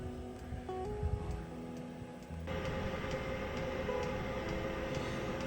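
LF Bros diesel heater running inside a truck camper, a steady mechanical whir and hum that rises to a fuller, louder drone partway through and then holds evenly.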